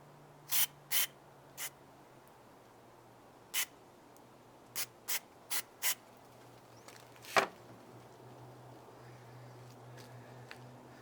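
Carburetor or throttle cleaner sprayed into the engine of a Mazda MPV with a stalling problem, heard as a run of short, sharp aerosol bursts, about eight quick hisses in irregular rhythm, then a longer spray followed by a quiet idle hum.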